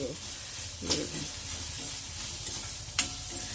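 Onion frying in oil in a pan for banana-leaf masala roti, a soft sizzle with stirring scrapes and a couple of sharp clinks, quiet and close.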